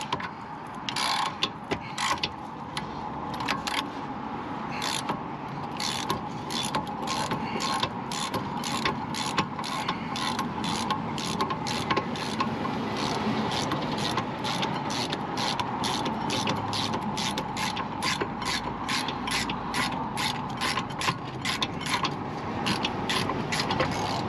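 Ratchet clicking steadily while changing brake pads and discs on a car at the roadside, rapid repeated ratcheting strokes close up and continuous for the whole stretch, with occasional metallic knocks and no talk.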